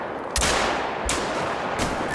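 In theHunter: Call of the Wild, three loud, booming shotgun blasts go off during a pheasant hunt, spaced about three-quarters of a second apart over a constant outdoor ambience, with no talking.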